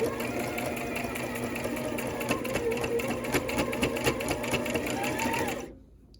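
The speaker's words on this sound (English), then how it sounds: "And I just sew it down. Straight stitch or a zigzag" A sewing machine runs steadily, sewing fabric down for an A-line overgarment and duster with straight or zigzag stitching, a continuous close whirring hum for nearly six seconds before it stops abruptly.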